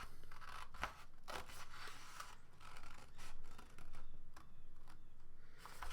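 Scissors cutting paper strips for a paper weaving project, a run of close, crisp snips and crunchy cuts in an uneven rhythm, with brief pauses between strokes and no talking.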